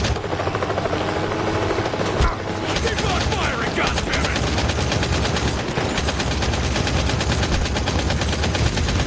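Sustained gunfire in Modern Combat 5: Blackout, rapid bursts of shots over a loud, throbbing helicopter rotor, close and continuous, with shouting voices mixed in.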